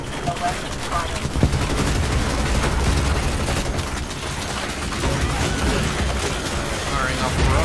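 Rapid gunfire rattles through a battle in the Starship Troopers: Extermination video game, a dense sustained barrage of overlapping shots and bursts lasting several seconds, with talk running over the shooting.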